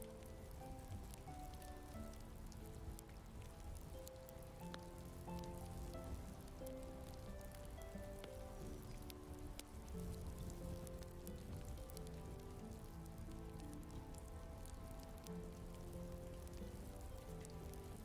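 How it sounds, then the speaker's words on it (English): Gentle rain falls steadily on the ground at night, a soft continuous patter that stays faint and even throughout, with a low musical drone beneath it. "the faint hum of rain touched the earth with tender fingers"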